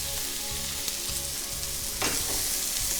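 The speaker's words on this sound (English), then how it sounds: "Just get those sauteing nice and hard." Baby bella mushrooms sauteing hard in oil, a dense steady sizzle with rhythmic low stirring thumps and a sharper spatter burst partway through; close, with no one talking.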